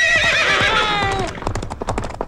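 A comedy mimic imitates a horse with his voice, first a long rising neigh and whinny, then a rapid, even clatter of galloping hoofbeats that grows sparser toward the end.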